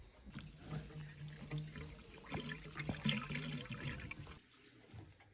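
Water flowing and gurgling through the pipes of a domestic heating system during a cold flush while a boiler is being fitted, a faint, uneven trickling and splashing that stops abruptly near the end.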